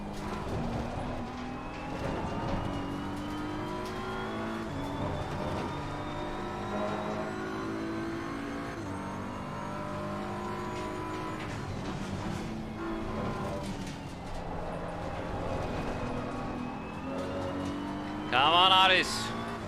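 Race car engines at Imola in the ACC racing game, a Ferrari among them, drone steadily and close with shifting pitch throughout, topped by a brief sharp whine near the end.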